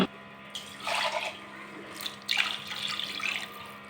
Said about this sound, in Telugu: తగినన్ని వాటర్ కూడా వేసేసుకోవాలండి.